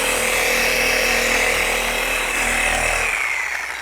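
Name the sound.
3401 polisher buffing car paint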